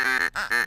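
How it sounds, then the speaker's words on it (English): Two nasal quacks from a duck in a video game, loud and close, split by a short gap of silence. "Oh, it's a duck."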